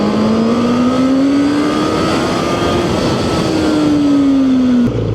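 A QJMOTOR SRK600RS motorcycle accelerates hard from a launch, its engine droning loud and close with a steadily climbing pitch that eases briefly and then drops sharply at the end, with no talk over it.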